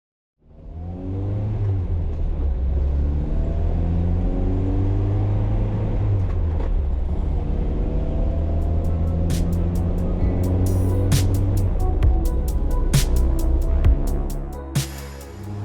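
A vintage Mercedes Fintail's engine hums steadily with a low rumble, rising slightly in pitch as it drives along, with a few clicks and taps near the end.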